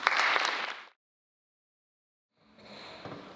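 An audience at a college convocation lecture applauds, a burst of clapping that fades out, silence, then another round of applause begins.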